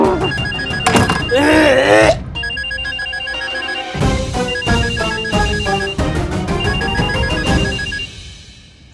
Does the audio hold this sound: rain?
no